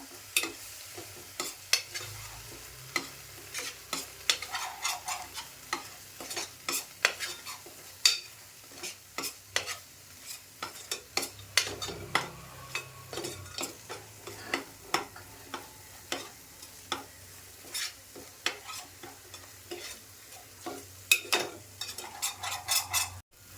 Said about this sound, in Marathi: मसाला मी असा बराच वेळ परतून घेतला आहे.